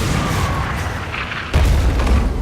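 Ship cannons fire in the pirate naval game Skull and Bones, a loud deep boom rumbling under music and effects, with a second heavy blast landing near the end.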